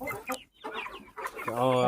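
Peruvidai country chicken clucking close up, a few short choppy clucks followed by a longer drawn-out squawk at the end, loud and alone.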